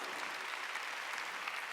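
A church congregation clapping during a sermon, giving a short, steady burst of dense applause heard faintly and at a distance, with no speech over it.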